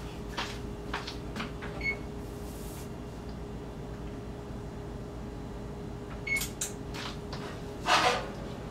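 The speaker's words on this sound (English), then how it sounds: "let me go get my roasting pan" A metal roasting pan taken out of a kitchen cupboard, heard as a few faint clanks and knocks at the start and a louder metallic clatter near the end over a low room hum, with no talking.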